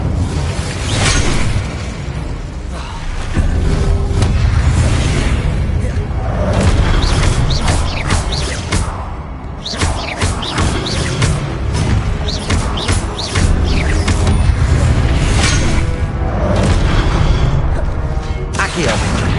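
Confringo and Incendio spell blasts in the video game Hogwarts Legacy, a loud dense barrage of booming, crackling impacts and whooshes filling the whole stretch, with a voice shouting spell names over the combat.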